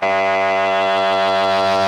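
A Korg MS-20 analog synthesizer plays a steady buzzy, reedy tone with no filter modulation, holding one harmonically rich note loud and unbroken for about two seconds.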